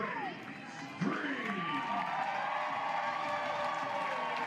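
A softball crowd at an NCAA regional game greets a senior player's name announcement with steady, continuous applause and cheering that holds at an even level throughout.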